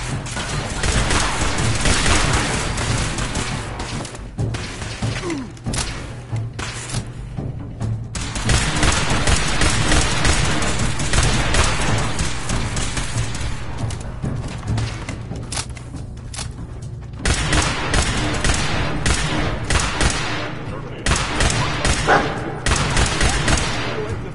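Heavy gunfire in Fallout 4 comes in loud sustained volleys and rattling bursts, broken by brief lulls, as a firefight rages on.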